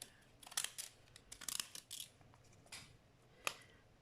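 Decal scissors snip through paper in a series of quick, crisp cuts, close and quiet, clustered in bursts with a final sharp snip near the end.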